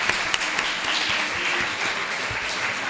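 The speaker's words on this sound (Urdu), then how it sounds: "بھرپور تالیوں کے ساتھ" A university hall audience gives sustained, dense applause for a student award winner at a Kashmir Day speech competition, a steady wash of many hands clapping together throughout.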